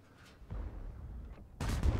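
Tank cannon fire in World of Tanks around an IS-7 heavy tank: a muffled distant boom early on, then a loud, close, heavy blast near the end with no talk over it.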